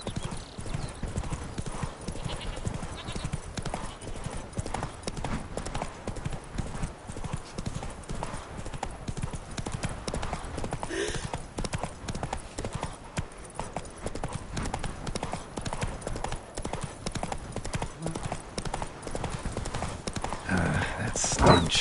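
Hooves of Geralt's horse Roach clip-clop steadily along a road in The Witcher 3, a continuous close rhythmic trotting that runs throughout, with occasional snorts and someone talking over it.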